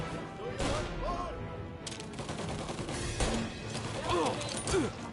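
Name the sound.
Tommy gun firing in video game Mafia Definitive Edition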